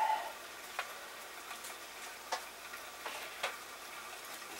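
Maple brown sausage frying in a pan, a soft steady sizzle with faint scattered pops and ticks, fairly quiet and close.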